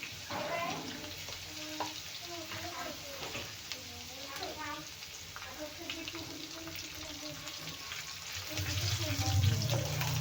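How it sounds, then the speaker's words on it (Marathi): Crushed garlic sizzles in hot oil alongside red chillies for a carrot-beetroot chutney, a steady crackling fry with occasional stirring scrapes and a low rumble building near the end. "तर आपण घालूया आता ठेचलेला लसण"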